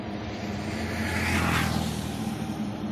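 A Raider J8i motorcycle engine revs close by, a steady loud drone that swells to a peak mid-way and then eases back slightly, with no talking.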